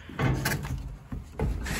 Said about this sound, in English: So this is like a pop-up style door.